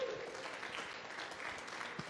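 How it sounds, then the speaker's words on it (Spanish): A church congregation claps together, a brief, faint burst of scattered applause that lasts about two seconds in a reverberant room. "¿Le podemos dar palmas a Jesús?"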